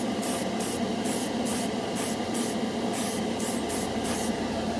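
Model Master Metalizer lacquer paint hissing steadily from an airbrush, a continuous close spray broken by short rhythmic bursts as the trigger is pulsed, with no talking.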